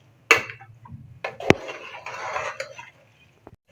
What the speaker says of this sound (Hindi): दाल और कीमे को हमने अच्छी तरह मिक्स कर लिया